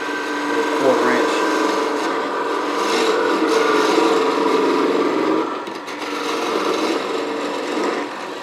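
Bubinga wood spinning on a lathe while being polished with abrasive paste gives a continuous close rubbing, rasping hiss over the lathe's hum, with a brief dip near the end.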